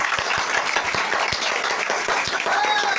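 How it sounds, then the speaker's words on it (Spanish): A studio audience claps for a contestant on a televised competition show, with rhythmic, fairly dense applause alongside voices talking over it. "¡Palmas para Danu!"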